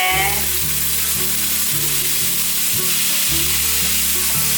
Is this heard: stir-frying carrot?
yes